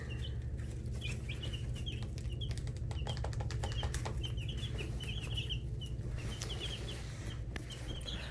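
Young chicks on day 11 moving about and feeding, with faint scattered high peeps and light scratching or fluttering over a low steady hum, distant and quiet.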